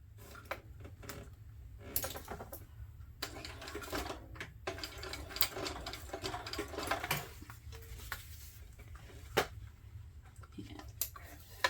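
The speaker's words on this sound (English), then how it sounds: "I am going to sew down the ends." A sewing machine stitching down the strap ends of a sling crossbody bag, running in short, quiet bursts of rapid mechanical ticking separated by brief pauses and handling clicks.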